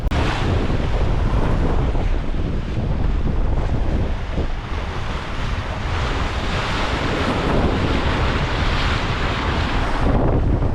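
Strong wind of about 22 knots and breaking swell around a sailboat under full main and reefed jib, a steady loud roar of wind buffeting the microphone and water rushing, with the headsail flapping lost in the noise.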